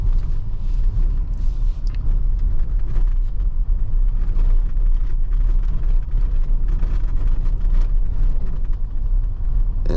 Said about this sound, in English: you can drive over all terrain. Like, these potholes mean nothing